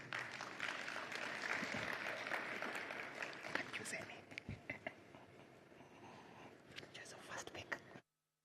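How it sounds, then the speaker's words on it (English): Audience at the Connected Africa Summit applauds the Ugandan Minister of ICT and National Guidance, a dense wash of clapping from a large hall that thins into scattered claps before stopping abruptly. "Please give him a hand of applause."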